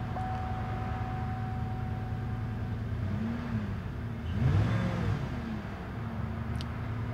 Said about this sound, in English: I'm revving the engine, no fluctuations.